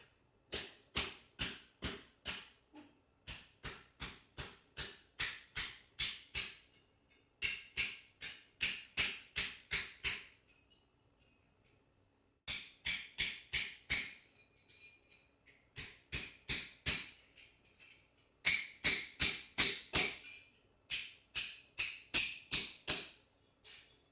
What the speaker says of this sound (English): I'm gonna hammer this down.